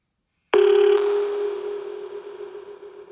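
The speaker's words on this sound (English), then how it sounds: "why is there the sound of a phone ringing?" A single electronic telephone ring starts abruptly after a brief silence, a steady pure tone with a brighter overtone layered in, then slowly fading while holding its pitch, heard alone in a quiet room during a paranormal investigation.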